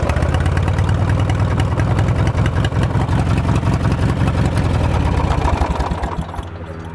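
A Dinky minibike's worn motor, near the end of its life, runs steadily and loudly up close with a rough, pulsing engine tone, then drops to a quieter idle in the final second.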